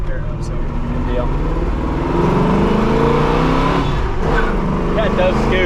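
A 1976 Pontiac Trans Am accelerates hard, its engine roaring loud and close as the revs climb, with a voice talking over it.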